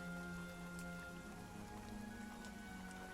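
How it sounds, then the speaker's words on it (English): Steady rain falls as a continuous soft patter, serving as ambience for a tabletop role-playing campaign, with no talking heard. "As you guys make your way back out into the rain."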